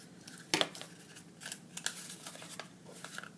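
Scissors snip the top off a small handmade craft figure: a sharp first cut followed by several lighter crunching snips and rustles, close by.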